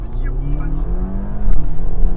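An Audi SQ5 pulls away hard, its engine note climbing through the revs with a shift partway through, loud and close from inside the cabin, while excited voices talk over it.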